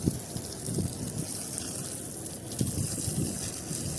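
Water poured generously over garden soil outdoors, a continuous rushing gush with splashy bursts, steady and fairly close, with wind noise and no talking.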